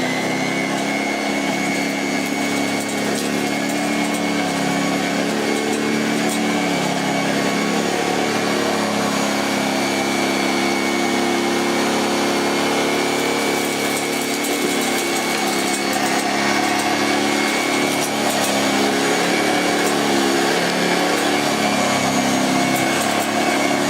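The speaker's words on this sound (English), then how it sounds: "let me get a bit closer and we'll get this dirt up" A 1938 Hoover 875 upright vacuum cleaner runs steadily at close range, a continuous high motor whine with a brush-roll hum, loud and unbroken throughout with no talking.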